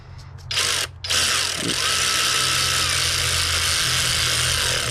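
A ratchet turning an E10 socket on a Dodge Sprinter oil separator gives a loud, close, continuous buzzing whir after a couple of brief starts, holding steady to the end.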